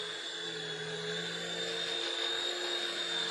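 Eachine H101 infrared-controlled toy helicopter hovering indoors, a steady high-pitched electric motor whine with a constant rotor buzz, close and continuous, with no talking.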